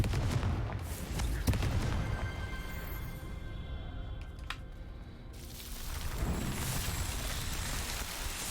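A Confringo blasting spell goes off in Hogwarts Legacy: booming, burst-like impacts over a dense, busy game soundtrack, with a sharp crack near the middle and a swell of noise toward the end.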